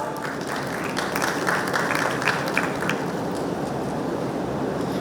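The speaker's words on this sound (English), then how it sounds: "Let's welcome him with a round of applause." A round of applause welcomes the moderator of a business finance panel, a broad wash of crowd clapping that swells slightly midway and stays steady to the end.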